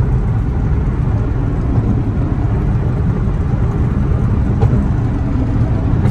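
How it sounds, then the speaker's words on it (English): A built Nissan 350Z drift car cruising in 6th gear on the road, its engine and tyre drone a steady, loud low rumble throughout, with no one speaking. "I'm in 6th gear, passing up slower traffic right now so I can get over"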